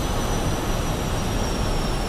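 A MiG-15 jet taxiing in DCS World gives off a steady, even engine roar with a faint high whine on top, loud and constant with no voices.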